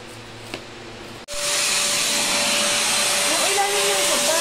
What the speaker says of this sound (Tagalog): Ito yung binili namin vacuum. Blast Vac 2.